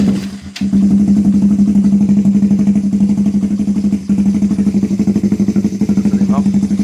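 A motorcycle engine starts after a carburetor adjustment, coughing briefly before settling into a loud, close, steady idle with a throbbing pulse that dips once and recovers.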